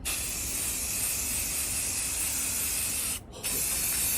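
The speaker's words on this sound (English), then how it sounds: "I already shook it up, shook up the can, so it should be easy. I should just spray it on." A shaken spray paint can sprays in one long, steady, loud hiss close by, broken by a brief pause near the end before the spray resumes.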